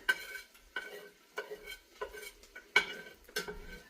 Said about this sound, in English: I want that grease that's in this pan, folks. I'm going to scrape all this down here.